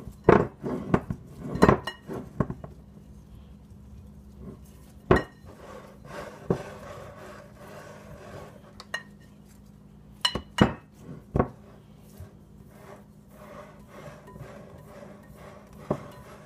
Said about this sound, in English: I like to use a whisk because that just helps me get things mixed really well